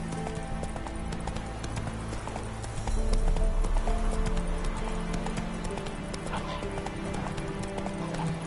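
Roach, a horse in a PS4 video game, gallops with steady clip-clopping hooves and an occasional whinny, set against a dense background of game music and ambience while someone speaks over it.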